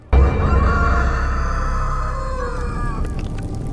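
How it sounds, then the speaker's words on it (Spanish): A single loud, close rooster crow, long and drawn out, ringing for several seconds before trailing off. "el gallo cantó"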